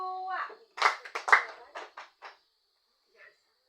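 A class of Indonesian seventh-graders clapping hands together in a counted rhythm exercise: a few sharp group claps in quick succession, close and fairly loud, fading to a single faint clap, with no talk over them.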